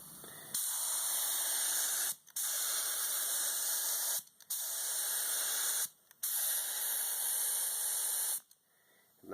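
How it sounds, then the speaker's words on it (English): Loud, steady hiss of a paint spray gun test-spraying in four long bursts separated by brief pauses, close and continuous. "always want to do a test pattern and check the spray on your paint gun"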